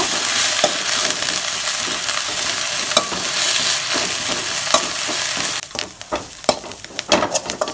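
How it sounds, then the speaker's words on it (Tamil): Vadha Narayanan greens sizzle and crackle steadily in a hot pan, then stirring adds scraping and clattering bursts near the end. "நல்லா வதங்கிருச்சுன்னா அப்படி பொரியிற சத்தம் கேட்கும்"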